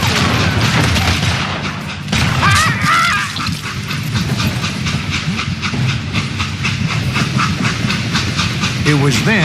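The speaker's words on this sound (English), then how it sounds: "It was then that Jesse detached the express car from the rest of the damn train." Steam train in the Western video game Call of Juarez: Gunslinger, a loud continuous hiss and chugging rumble with rhythmic clanking, mixed with game sound effects and a brief voice.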